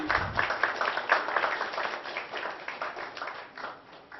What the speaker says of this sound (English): Let's have a huge round of applause for Mr. Kabir Bedi.